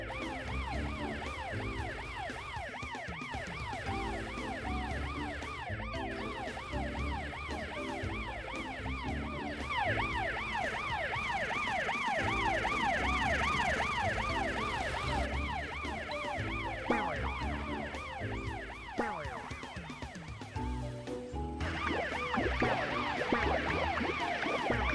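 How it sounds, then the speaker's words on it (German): A cartoon police car siren wails continuously in a rapid, warbling up-and-down pattern, loud and steady throughout, with a second siren tone joining partway through. "Kannst du Franks Sirene hören?"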